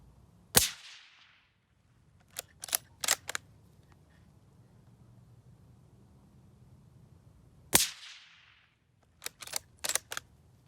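Two sharp shots from a Ruger American Ranch .223/5.56 rifle with a DIY suppressor ring out several seconds apart, each followed by a cluster of quick supersonic bullet cracks and snaps, against a quiet background.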